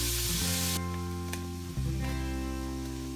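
Prawns fry steadily in a pan for prawn masala, a dense, even sizzle heard close up and alone, with a low hum running underneath.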